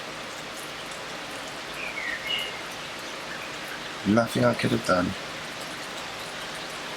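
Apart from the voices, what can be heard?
rain falling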